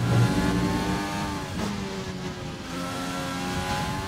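F1 car engine in the racing game F1 2020 holds a steady, loud rev with harmonic whine, dropping briefly as it shifts into fifth gear, then continuing at a sustained high pitch.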